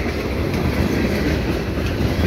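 A CN freight train rolls across a single-track bridge near a station, its wheels and cars making a loud, continuous rumble with a steady rhythmic clatter.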